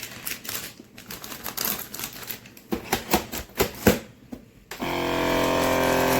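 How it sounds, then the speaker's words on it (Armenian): A vacuum sealer works on a bag of food, with a stretch of irregular rattling clicks and clatter, then a loud, steady motor hum starting up and running on alone. "Ինքը հիմա լավ վակուում կանի"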